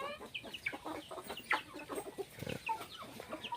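Several chickens cluck and squawk close by on a citrus farm, a busy overlapping chatter of short calls with a louder squawk midway.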